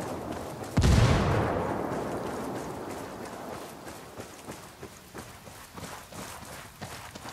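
A frag grenade goes off in Ghost Recon Wildlands as a single loud, close blast. A long rumbling decay follows, then fainter scattered gunfire-like pops and shuffling.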